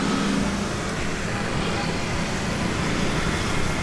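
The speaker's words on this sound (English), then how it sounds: "Traffic." Steady, dense street traffic in Labuan Bajo town on Flores: a continuous low roar of passing engines and road noise with no breaks, moderately loud throughout.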